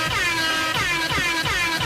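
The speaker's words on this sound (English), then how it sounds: "Thanks for blaring air horn sound effects while playing the music." Loud blaring air horn blasts repeating in quick succession, harsh and brassy, with no talking.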